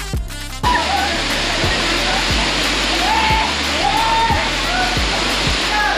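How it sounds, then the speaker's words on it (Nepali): Roshi waterfall at Panauti in Kavre, Nepal, pours in a loud, steady roar of rushing water that starts abruptly and continues unbroken, close by, with faint background sounds beneath. "सो गाइजहरू रोशी झरना चाहिँ बवाल छ है बवाल"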